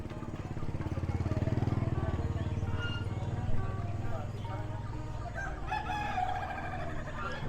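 Roosters crow at the Satria bird market in Denpasar, with repeated loud calls over a busy market background of other birds and passing engines.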